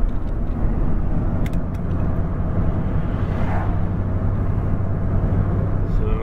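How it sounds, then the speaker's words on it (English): Steady low engine rumble and road noise from inside a car driving around town, continuous and fairly loud throughout with no talk. "So I'm just kind of driving around at the moment."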